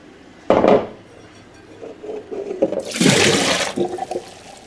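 Soaked almonds rinsed under running water, with a short splash, then clinks and rattles of the nuts in a container before a louder rushing pour of water, all close up.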